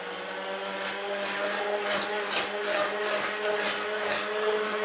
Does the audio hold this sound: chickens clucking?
no